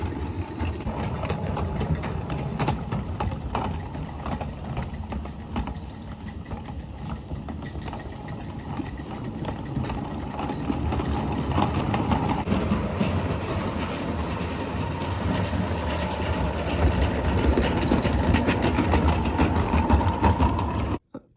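A Mamod Mk3 live steam locomotive runs on the floor, giving a continuous rapid mechanical chuffing and rattling that is close and fairly loud and grows slightly busier partway through, with no talking.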